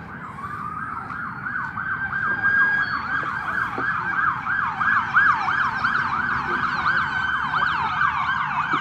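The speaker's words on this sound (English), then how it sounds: "That's three police cars. They've been sirens all night." Police sirens wail continuously, loud and close, with rising and falling tones overlapping as vehicles pass by.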